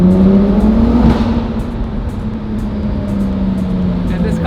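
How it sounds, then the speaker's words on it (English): A car engine drones steadily through a road tunnel, its low exhaust note sputtering and gassy rather than smooth, with other traffic passing in the background and a voice talking over it. "I don't know why this car sounds like it always just farts and lets off gas"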